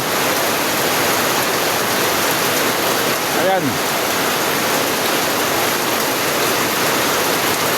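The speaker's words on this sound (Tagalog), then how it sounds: "Ngayon, no, bumuhos ang lakas na ulan." Heavy rain pours in a dense, steady roar that fills the whole stretch, loud and unbroken, with a brief spoken word partway through.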